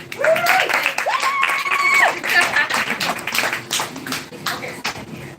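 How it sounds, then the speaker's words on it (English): An open mic night audience at a café claps for a performer, a moderate patter of hands mixed with whoops and cheering voices that fades and lingers over a few seconds. "Everybody clap for her."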